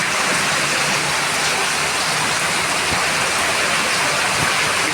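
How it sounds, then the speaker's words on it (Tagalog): Heavy typhoon rain pours down steadily in a dense, continuous hiss, loud and close, with no voices or other sounds. "Oh, look at that. Kung gaano yan kalakas ng ulan."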